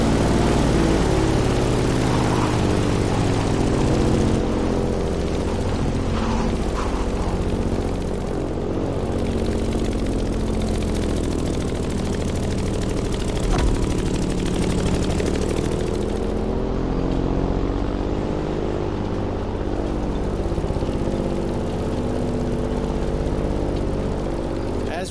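Grumman F8F Bearcat propeller fighter in flight in the racing game The Crew Motorfast, a steady heavy piston-engine drone with a rough, layered hum held throughout, voices talking over it.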